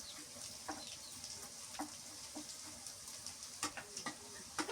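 Garlic, ginger and cumin pastes fry quietly in a pan while being stirred, a soft background sizzle broken by repeated scraping strokes of the spoon, fairly close.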